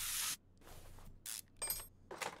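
Short hissing bursts from a spray can in Car Mechanic Simulator 2021, several separate sprays of varying length with brief quiet gaps between them.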